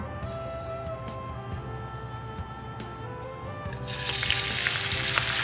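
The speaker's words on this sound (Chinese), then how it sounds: "油稍微温热的时候，我们放入几粒花椒，" A few Sichuan peppercorns dropped into warm oil in a wok, a soft sizzle that swells into a louder, brighter frying hiss near the end, without speech.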